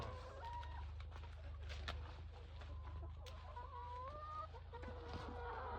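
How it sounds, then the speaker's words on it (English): Free-range chickens cluck and call outdoors, several birds near and farther off with overlapping rhythmic clucks over a steady low background hum; no talk. "If you leave your chicken like this for outside, you no go spend too much money on feeding."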